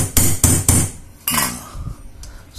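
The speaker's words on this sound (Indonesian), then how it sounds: "kita paku dulu sedikit pakai baku beton" Three sharp metallic hammer strikes in quick succession, then a heavier ringing blow, close and loud, as a concrete nail is driven against steel to mark a drilling point.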